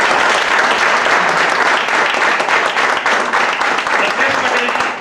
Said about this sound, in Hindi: मैं चाहूंगा उनके लिए जोरदार ताली हो जाए